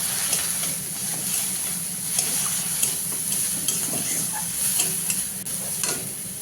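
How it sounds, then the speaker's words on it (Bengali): Turmeric and chilli powder stirred into a spice paste in a hot pan, sizzling and hissing steadily while a utensil scrapes and taps at irregular intervals, close up. "এই যে হলুদ আর লঙ্কার গুঁড়োটা দিয়ে আমি কিন্তু মশলার সাথে ভালো করে মিশিয়ে নেব"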